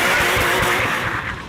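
The V12 engine of the McLaren F1 supercar, able to rev to 7,500 RPM, roars loud and close with a rising, throaty rev that eases slightly toward the end.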